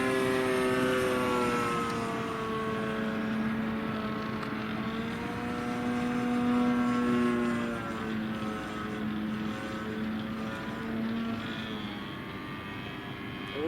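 An O.S. model aircraft motor runs continuously at a steady pitch with slight rising and falling tones, moderately distant and fairly quiet, with no talk.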